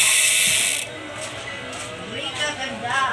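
Dual-pawl ratchet of a Sagmit M120 bicycle hub clicking in a steady freewheeling run, close and loud at first, then fainter, rapid clicks with a brief voice under them.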